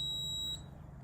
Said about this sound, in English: it says you let it go until you hear the beep